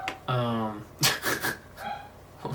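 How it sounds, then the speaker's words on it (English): Dogs bark and yip in short bursts in the background, a few rising, whimpering calls spaced across a couple of seconds, moderately close and fairly loud. "My dogs are barking."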